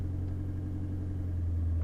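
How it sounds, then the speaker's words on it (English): A 4x4 grinds across a drifted sand dune in the remote Australian outback, its engine a steady, close low rumble that holds throughout with a slight rise near the end. "we got Jilly in the driver's seat at the moment"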